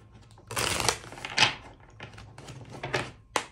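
Tarot cards are shuffled close up in a few quick bursts of crisp riffling and slapping, separated by short pauses and ending in a sharp tap, with no voice.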